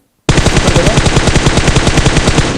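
Sustained automatic gunfire in PUBG Mobile on the Livik map, a loud rapid burst of evenly spaced shots starting suddenly after a short silence and continuing without pause.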